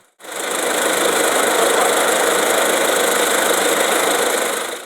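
A tractor engine runs steadily while trees with root balls are planted in dug holes, a loud and continuous mechanical drone that starts abruptly and holds an even level, with no voices.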